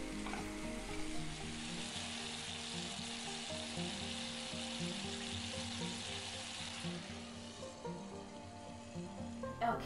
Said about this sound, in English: Now I'm gonna let my mushrooms cook until they're nice and brown and sauteed